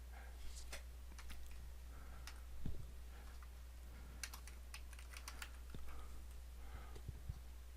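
Typing on a computer keyboard while editing a slide layout, heard as soft, scattered key clicks at a moderate pace over a steady low hum, with no voices.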